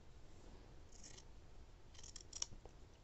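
Scissors snip through a T-shirt to make continuous yarn strips, giving a few short, quiet, close cuts in small clusters with pauses between.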